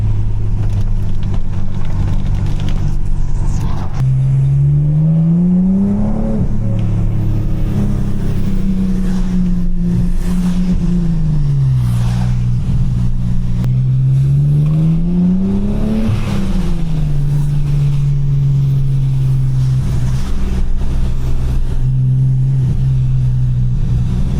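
A BMW E46 revs hard while its wheels spin on a rain-soaked road, the engine note climbing and falling in long sweeping waves that stay loud and close throughout.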